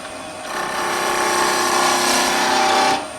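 A skew chisel shaves wood on a spinning lathe, a steady close whirring cut that swells in and holds for a couple of seconds before easing off, with no voices.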